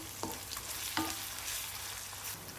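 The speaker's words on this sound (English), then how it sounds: "Fry for another 3 minutes." Onions sizzle in hot oil with curry leaves and whole green chilies for a mutton dal curry, making a steady hiss broken by a couple of brief scraping stirs.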